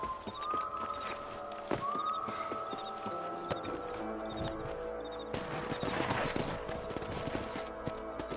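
Horse hooves clip-clop steadily in Red Dead Redemption, mixed with game music tones and a brief whinny-like sound, moderately loud in the foreground.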